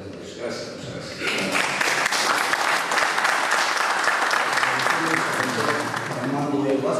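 An auditorium audience breaks into sustained applause after a lecture on contract resolution, dense clapping that swells after a second and holds steady, with a voice speaking faintly beneath it.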